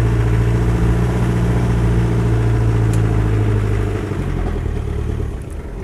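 Land Rover 90 hardtop with a 2.5 diesel engine, driving off from a stone-cold start. It gives a steady, loud, low diesel drone with a rough clattering texture, then eases slightly toward the end.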